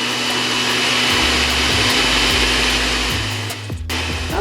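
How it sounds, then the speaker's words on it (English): Blender whirring loudly as it chops parsley and spinach for a smoothie, steady motor whine with pulsing, uneven load changes, then briefly cutting out and restarting near the end. "So now we have our spinach in our thing and we're going to blend it down."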